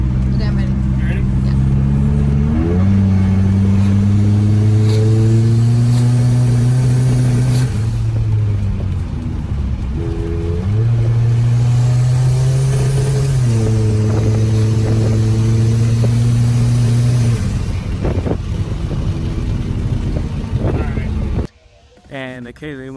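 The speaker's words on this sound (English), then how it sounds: "We're getting a lot of ignition breakup when we get to about 14 pounds of boost." Boosted Mitsubishi Eclipse engine revving loud and close, a droning tone that climbs and drops through several long pulls with rough, stuttering ignition breakup, then abruptly cutting off near the end.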